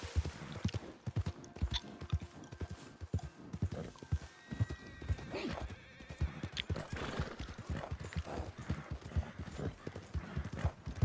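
Horse hooves clip-clop steadily on the ground in the video game Red Dead Redemption 2, a quiet, continuous rhythmic patter with busy in-game ambience around it.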